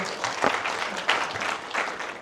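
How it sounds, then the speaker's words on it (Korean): After a lecture on remodeling construction costs, a modest audience gives a short round of applause. The clapping is patchy and uneven, with a few sharper claps standing out. "박수 한번 부탁드리겠습니다"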